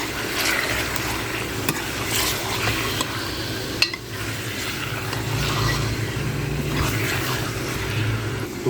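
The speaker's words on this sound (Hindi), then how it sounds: "चिकन को अच्छी तरह से फ्राई करेंगे अदरक लहसुन के पेस्ट में।" Chicken pieces fry steadily in ginger garlic paste in a pot for an achar gosht dish, giving a continuous close sizzle with occasional stirring scrapes and one sharp clink near the middle.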